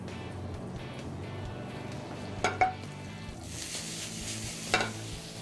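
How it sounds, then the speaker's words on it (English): Spaetzle fry in an oiled pan with a steady, close sizzle. A few sharp clinks of a utensil scraping the pan break the hiss. "You want to make sure every part of the pan is covered with oil, otherwise you will get Spaetzle sticking to it."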